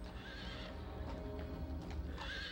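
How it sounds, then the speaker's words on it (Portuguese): A horse whinnies clearly at the start and again near the end, with hooves clip-clopping in between, close and moderately loud in a dramatized arrival scene. "Um mensageiro chegou a cavalo"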